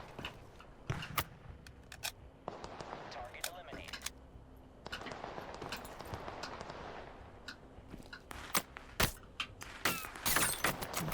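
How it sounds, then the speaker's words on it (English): Gunfire in the video game Total Conflict: Resistance, with scattered sharp shots and short bursts at varying distances over ambient game noise, and voices talking between them. "Someone's shooting at me from over there."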